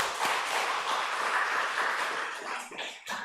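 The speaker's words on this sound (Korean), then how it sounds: "우리 박수로 맞이하겠습니다." A church congregation at a Wednesday noon worship service of a police Christian mission applauds to welcome two guest pastors: a sustained, fairly distant wash of many hands clapping that thins out and fades near the end.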